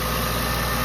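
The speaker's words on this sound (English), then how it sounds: "So start the car up and see what it does." Infiniti Q50 engine idling right after a serpentine belt repair, a steady close mechanical hum and rumble with no voices.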